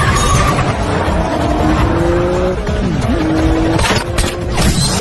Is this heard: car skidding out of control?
yes